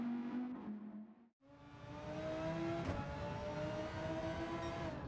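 A 2015 Audi R8 LMS race car in Gran Turismo 7 holds a steady high engine note with a sudden brief cutout near the start, then picks up again and drones on with rising pitch, with no voices.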